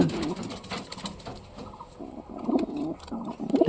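Pigeons coo softly in low, throaty bursts, several overlapping calls rising and falling close by, with a little rustling in between; young pigeons are present.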